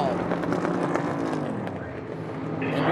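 NASCAR Cup Series stock cars racing in the Brickyard 400 at Indianapolis, a steady engine roar with rising and falling pitch as the cars run, commentary voices talking over it throughout.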